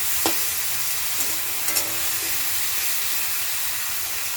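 Vegetables with onion and green chilli fry in oil while being stirred, giving a steady, even sizzle close by with a couple of faint clicks from the utensil.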